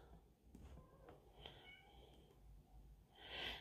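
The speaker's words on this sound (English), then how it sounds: "if you hear my cat meowing" A cat meows faintly a few times in a quiet room, short soft calls with a louder hiss-like burst near the end.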